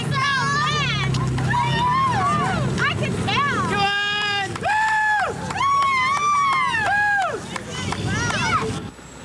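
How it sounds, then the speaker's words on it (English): Team members and family cheer runners coming down a hill in the 1986 Snow to Surf Race: loud, high, sustained shouts and calls rise and fall over an outdoor crowd hubbub. "they're cheered on by fellow team members and family"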